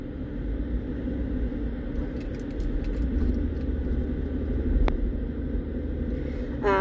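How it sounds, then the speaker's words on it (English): Steady low car engine and road rumble from inside a vehicle driving to a school, a continuous interior drone with a faint tick near the end and no talking. "I'm driving into the school to get my prints"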